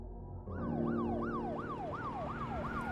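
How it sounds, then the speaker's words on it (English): Police car sirens wail in a rapid, repeating up-and-down sweep, steady and fairly close, over a low traffic rumble with no voices. "I woke to find police cars screaming up my street"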